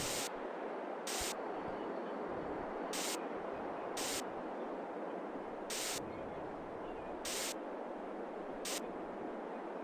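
Short hissing bursts of spray paint repeat every second or so over a steady static-like hiss in the farming game Farming Simulator 22, with no speech.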